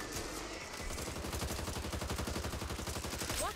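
Rapid automatic gunfire from the video game Back 4 Blood, a loud, close stream of evenly spaced shots that carries on for several seconds with no voices.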